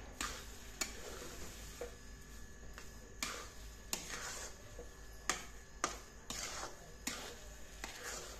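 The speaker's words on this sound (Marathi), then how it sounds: "आता ही साखर आपण पूर्णपणे त्याच्यामध्ये मिक्स करून घेऊ" A spoon scrapes and taps in a pan while sugar is stirred into sweet prasad sheera, giving irregular clicks and scrapes over a soft, constant background hiss, fairly quiet and close.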